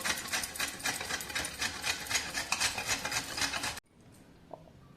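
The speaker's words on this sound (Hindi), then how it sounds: "जो ये आधा नारियल है इसको हम कद्दूकस कर लेंगे" Half a dried coconut rubbed against a grater in fast, continuous rasping strokes for several seconds, close and fairly loud, then abruptly stopping into near silence with a faint clink.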